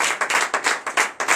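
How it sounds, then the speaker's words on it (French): Brief, lively hand clapping from a church congregation acclaiming the Lord during a night deliverance service in Benin, a rapid cluster of overlapping claps at close range, without speech. "Donnez de vives acclamations à notre Seigneur."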